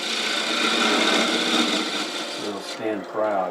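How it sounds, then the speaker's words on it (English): A detail gouge undercuts a bead on turned wood, giving a continuous close rasping scrape that fades as a voice speaks over the end. "I need to undercut that bead a little bit, so I'm going to use a detail gouge for this to"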